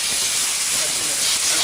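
Compressed air blasting steadily from an air nozzle to clean a freshly machined car part, a loud continuous hiss close by with no pauses.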